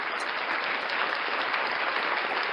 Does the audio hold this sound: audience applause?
yes